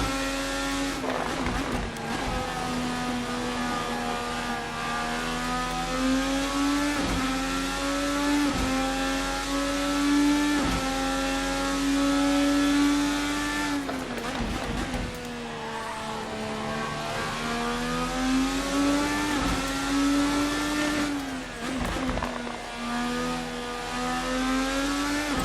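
A simulated RSS Formula Americas 2020 open-wheel race car in Assetto Corsa holds a steady high-revving engine whine. The pitch rises and falls through gear changes, with brief dips and short bursts of tyre noise.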